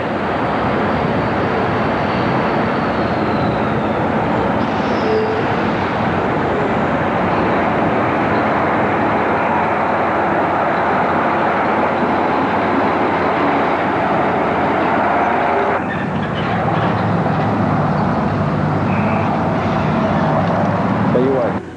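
A fixed-rail vehicle rides along in Galveston, Texas, with a steady loud rumbling drone of wheels and motor that continues for the whole stretch, recorded from on board.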